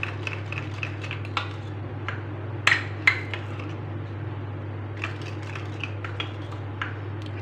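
Rice flour slurry is stirred in a bowl, giving soft scraping with light clinks of a utensil against the bowl and two sharper taps, close over a steady low hum, with no voices.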